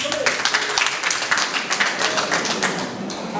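Wedding guests applaud in a dense, continuous patter of many hands clapping at once, close and steady, with voices murmuring faintly underneath.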